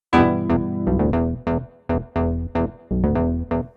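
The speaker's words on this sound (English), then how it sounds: "Let's switch for a hall." A clavinet-style analog synth bass, layered with octave bass and chorus, plays a bouncy riff of short and held notes through an Electro-Harmonix Holy Grail on its hall reverb setting, loud and with no voices.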